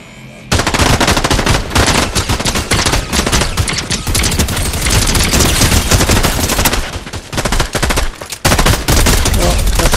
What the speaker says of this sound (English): Who the heck's shooting at me?